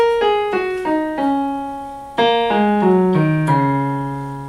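Piano notes on the black keys are played one after another in a light, ringing melody, each note sustaining and overlapping, clear and close.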